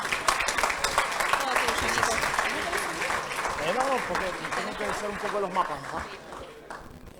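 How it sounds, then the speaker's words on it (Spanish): Audience applause welcoming a speaker at an academic talk on Argentine geoid models, sustained clapping throughout with a murmur of voices mixed in. "Recibámoslo con un fuerte aplauso a Nicolás."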